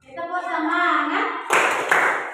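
A group of teachers performs a short rhythmic clap chant: a voice calls out first, then sharp, loud claps follow in a brief patterned burst.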